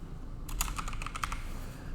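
Typing on a computer keyboard, a quick close burst of clicky keystrokes starting partway in, alone over a quiet room hum.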